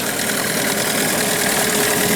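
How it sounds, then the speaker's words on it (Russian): A Hangkai 9.8 outboard motor idles in a test barrel during break-in, a steady close, loud drone with continuous rumble and vibration and no pauses or speech. "Мотор у нас продолжает кататься."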